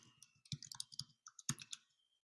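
Quick bursts of clicking keystrokes on a computer keyboard, close and quiet, tapping in short irregular runs with brief pauses and no voices.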